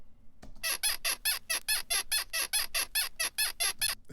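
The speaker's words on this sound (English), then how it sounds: "And then you have the bed squeak as well." Bed squeak sound effect sample, about fifteen evenly spaced sharp creaky squeaks in a fast steady rhythm, loud and isolated against near silence.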